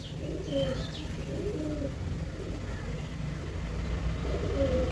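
A domestic pigeon in a home loft coos softly in several low, rolling calls, close by over a constant background hum with faint chirps.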